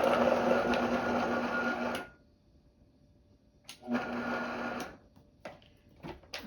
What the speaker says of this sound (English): And we're going to pulse them just a little bit to break them up before we do the rest of the ingredients.